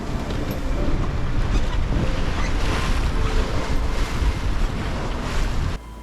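A sailboat on the North Sea in southerly winds on a beam reach: loud wind buffets the microphone over rushing waves against the hull, then drops suddenly near the end.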